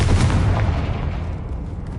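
A fiery Confringo blast spell in the video game Hogwarts Legacy bursts loud and close, a booming explosive hit that quickly fades with a rumbling tail.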